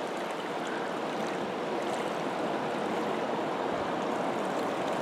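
The Trinity River rushes steadily and close by, a cold river flowing with a constant broadband wash of moving water that holds even from start to finish, with no voices.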